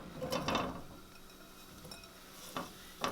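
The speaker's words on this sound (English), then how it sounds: "And we're going to dump in our tofu." Tofu tipped into hot oil in a frying pan gives a soft sizzle with a few scraping, clattering stirs against the pan, fairly quiet with gaps between the louder moments.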